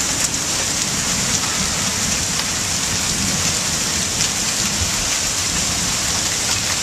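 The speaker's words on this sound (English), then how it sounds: "lots of hail now" Dense, steady hail and heavy rain pound surfaces during a May thunderstorm, forming a continuous loud wash with no pauses.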